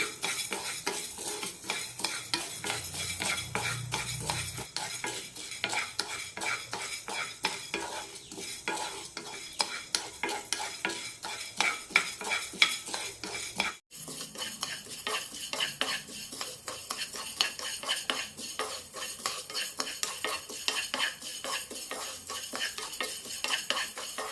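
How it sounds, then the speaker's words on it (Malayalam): Horse gram dry-roasting in a pan, with a continuous rattle of dry lentils and rapid, steady scraping of a utensil against the metal. A brief pause interrupts the stirring partway through. "നല്ല റോസ്റ്റഡ് സ്മെല്ല് വരുന്നവരെ വറുത്തെടുക്കാം"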